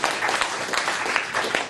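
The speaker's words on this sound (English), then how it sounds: "Give him a round of applause for just that." Applause from an audience at a hypnosis and NLP practitioner course, steady clapping that fills the whole moment at a moderate level.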